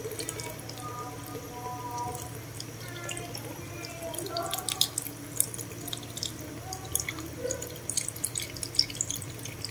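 Coconut water pours into a cooking pot of simmering vegetarian braised tofu and mixed vegetables, giving a steady trickle with drips and splashes over a constant low kitchen hum, with a voice talking faintly at times.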